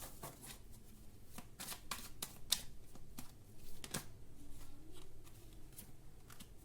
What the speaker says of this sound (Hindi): इतने सारे कार्ड्स गिर रहे हैं